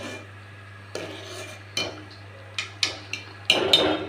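Drumstick and dried fish curry stirred in a pot: a handful of separate metallic clinks and scrapes of a spoon against the vessel, spaced out and fairly close.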